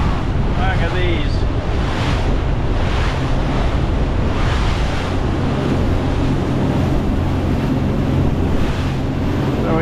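Ocean waves and strong wind at sea aboard a boat on a rough passage from Cardiff to Swansea, a steady loud roar of surf and gusting wind buffeting the microphone throughout, with faint voices now and then.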